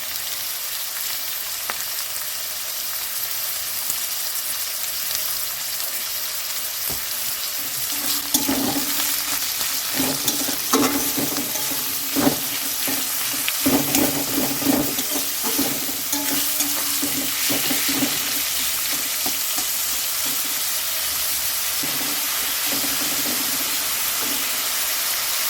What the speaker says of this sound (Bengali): পেঁয়াজটা আমরা লাল লাল করে ভেজে নেব।